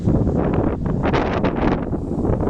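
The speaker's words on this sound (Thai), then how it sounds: "โอ้โห พายุลูกใหญ่มาแล้วครับ" Strong storm wind gusting loudly and steadily at a house in Chiang Khan, Loei, Thailand, a dense roaring rush with swelling gusts that fills the whole stretch, with no voices.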